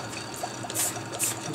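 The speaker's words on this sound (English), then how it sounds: "I'm just going to rinse that off." Distilled water pours and trickles over a zinc-plated steel handle during a rinse, a soft, steady splashing with brief brighter spurts, fairly quiet and with no talking.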